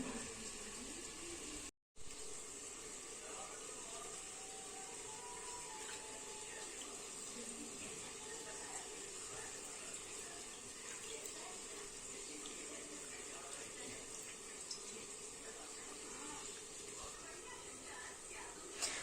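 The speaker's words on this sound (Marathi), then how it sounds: "मी आता चाळणीवर ते गाळून घेणार आहे" Water from washed spinach drains through a sieve in a home kitchen, making a steady rushing, splashing flow that runs continuously and evenly throughout the clip.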